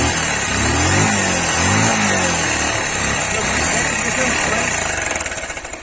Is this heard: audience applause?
no